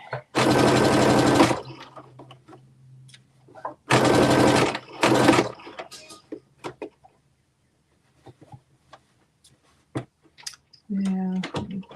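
A sewing machine runs in loud bursts while back stitching a garment seam, three short close runs separated by quiet pauses, with a person talking between them and birds faintly outside.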